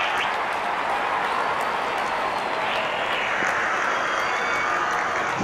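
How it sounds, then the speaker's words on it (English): Cricket crowd cheering and applauding as the opening batsmen walk out, a steady broad wash of distant applause and crowd noise with no clear break. "Openers walking in and the crowd cheering in anticipation."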